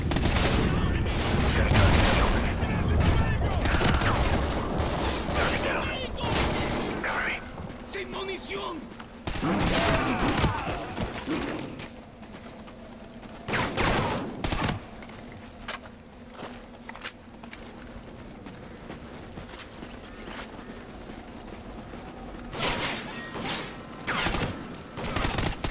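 Sustained gunfire in the Call of Duty Ghosts campaign, dense rattling bursts and shots almost throughout with brief lulls, loud and close, with people talking over it.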